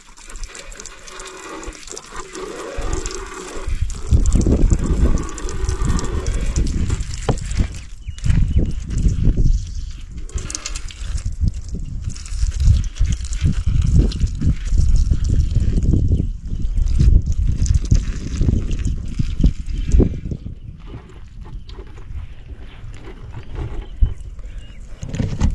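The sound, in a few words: high pressure bike and car washer spraying water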